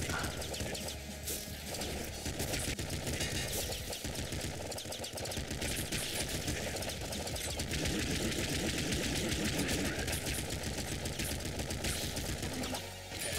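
Rapid, continuous gunfire from the Triple Machine Gun in the video game Nuclear Throne, a dense stream of shots running throughout at steady loudness, with no talking.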